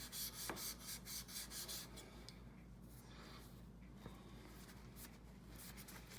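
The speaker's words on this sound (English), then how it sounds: "And then what I do the back, because what we're trying to do is wear that wire edge off." Steel chisel back rubbed flat on a fine sharpening stone to wear off the wire edge, quiet rhythmic scraping strokes, close and faint, repeating in short back-and-forth passes.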